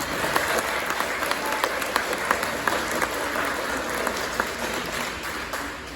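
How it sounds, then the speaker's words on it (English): Steady applause from an audience at the English Christian Academy Batch 2022 graduation ceremony, a continuous crowd of clapping hands with a few sharper individual claps standing out, moderately distant and even in level. "Give them a round of applause, everyone."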